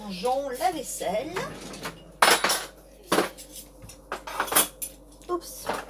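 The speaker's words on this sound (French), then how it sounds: "Voilà, nous rangeons la vaisselle." Dishes and cutlery clatter and clink as they are put away after clearing a table, several sharp knocks of plates and utensils close by, with someone speaking French between them.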